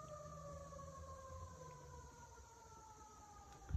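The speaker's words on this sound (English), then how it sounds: "There's a siren going through the hollow." A distant siren wails steadily through a hollow, its tone slowly falling, with faint background hum and no voices.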